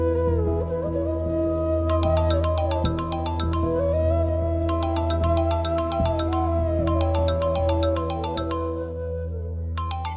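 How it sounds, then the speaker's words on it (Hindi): A melodic phone ringtone plays in repeating bright chiming phrases over a steady musical backing, loud and continuous, with no talking. "किसका फोन है? रिसीव क्यों नहीं कर रही हो?"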